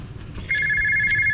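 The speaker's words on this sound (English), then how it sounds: "my phone won't stop ringing" A phone ringing during an HVAC repair on a unit with no heat or cooling, a steady electronic trill starting partway in and continuing to the end, clear and close over low background noise.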